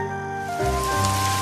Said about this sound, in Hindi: बारिश आई और चांद बादलों में छिप गया।